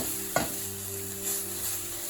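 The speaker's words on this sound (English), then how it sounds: "So we're gonna caramelize the carrots by themselves." Carrots caramelizing in hot oil in a pan give a continuous sizzle, with a sharp clack of a utensil stirring near the start and soft scraping movements after, close and fairly loud with no talking.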